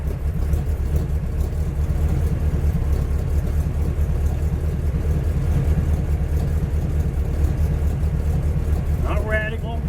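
A 1976 GMC Jimmy's engine idles steadily with a deep, low rumble after a gas tank install, running continuously and close by with no talk over it.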